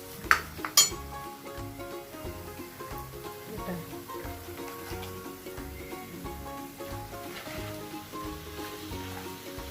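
Chicken fries in masala in a pan with a steady close sizzle, joined by a few sharp metallic clinks of a utensil against the pan near the start and light stirring scrapes.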